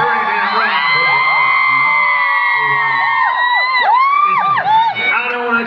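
A Singapore concert crowd cheers, shouts and whoops loudly and continuously, with high wavering yells rising above a dense roar of voices.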